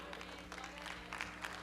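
Congregation at a Brazilian evangelical couples' gathering breaking into applause, a moderately faint, steady patter of many hands with a few louder bursts, low hum of the room underneath.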